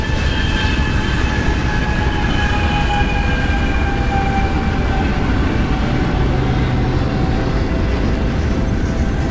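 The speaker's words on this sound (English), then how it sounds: "That's a pretty long train." A long train rolls steadily past a trail after rain, its continuous loud rumble joined by sustained high wheel squeal that slowly fades over the whole span.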